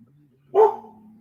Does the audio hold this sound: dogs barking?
yes